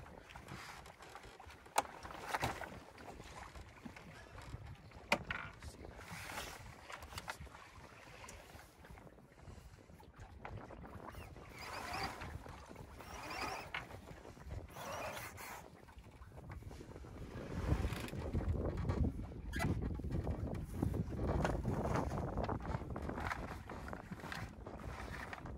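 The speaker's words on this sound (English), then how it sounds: "Here I'm taking out the second reef as we sail along close hauled." Cornish Shrimper 19 sailboat sailing close hauled during reefing, with gusty wind buffeting the microphone, water rushing and slapping along the hull, and occasional knocks and creaks from rigging and crew on deck.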